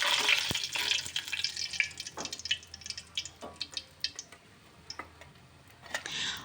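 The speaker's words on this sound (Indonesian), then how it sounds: "Jadi aku goreng kerupuknya secukupnya aja untuk makan sekali aja." Krupuk crackers frying in hot oil in a home kitchen pan, with scattered crackling pops and sizzles that thin out into sparse ticks.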